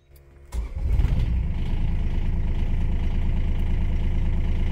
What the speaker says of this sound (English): let's start this contraption and see what she's got